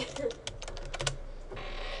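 Someone types a restaurant search, a quick run of soft, close key taps in irregular bursts, with faint background noise and no clear speech.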